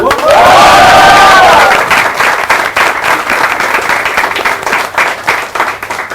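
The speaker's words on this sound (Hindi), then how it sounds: "हमारी यंग ऑडियंस के लिए भी जोरदार तालियां" Loud audience applause with cheering for Bollywood actress Vidya Balan and a young audience at a Hindi interview event; dense clapping and whoops, strongest early, then settling into steady clapping.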